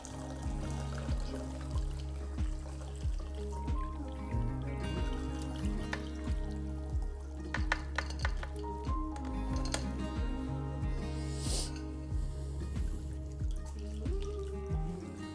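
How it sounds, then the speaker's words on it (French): Homemade vegetable broth simmered from peelings is strained, giving a trickling pour with a regular series of close drips and splashes that repeat steadily throughout. "on passe tout simplement le bouillon"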